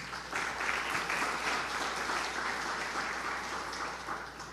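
A church congregation applauds during a sermon, heard as a steady, dense wash of clapping from many hands that carries on throughout and fades slightly at the end.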